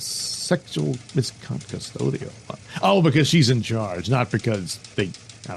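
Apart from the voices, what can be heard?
No everyday noises stand out.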